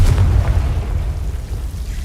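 A Confringo blasting spell from the Hogwarts Legacy game bursts in a single deep boom with a low rumbling tail that fades over about two seconds, with no talk.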